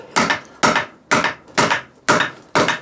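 A hammer strikes the bead of a David Brown 990 tractor drive tyre six times in a steady rhythm, each blow a sharp, loud, close thud with a short ringing decay and no talk.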